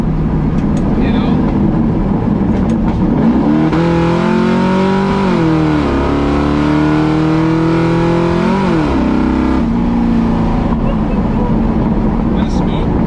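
A Fox Body Mustang engine with a new, quieter exhaust drones and revs up and down inside the cabin, rising and falling in pitch over several seconds; voices talk faintly underneath.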